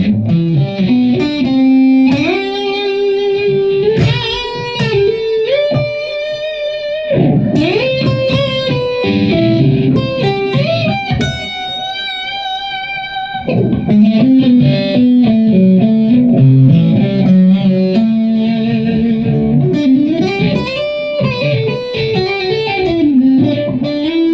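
Electric guitar played through an amp with delay, a melodic line of sustained, ringing notes with echoing repeats and light distortion, steady and loud throughout with no voices.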